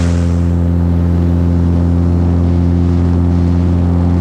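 A small propeller plane's engine drones loudly and steadily at the start of its takeoff roll, a close, constant buzzing roar that stays even with no voices over it.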